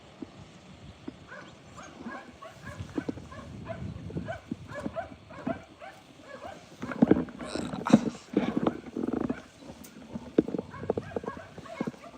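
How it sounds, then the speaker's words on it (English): Hooves of a horse being ridden clop in an uneven rhythm on firm ground, soft at first and then louder and closer, with light background noise and no talk. "We got Little Diamond, ride the horse"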